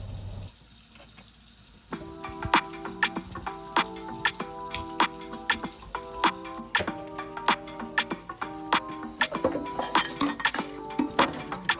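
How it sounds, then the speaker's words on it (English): Dishes being washed in a sink of warm water with Dawn dish soap and a splash of bleach: sharp clinks and knocks of plates and utensils come in a steady, irregular stream over a low running-water wash, close and fairly loud. "I'm just giving these dishes a nice little scrub down and a little bit of a rinse"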